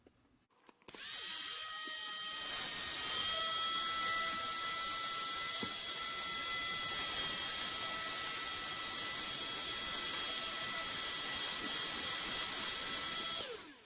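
A mini desktop vacuum cleaner switches on after a brief click and runs with a steady, high-pitched whirring drone for the rest of the stretch, close and even with no talk.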